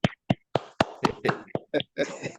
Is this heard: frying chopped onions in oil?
no